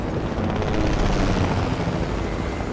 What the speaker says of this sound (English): There's three helicopters swarming.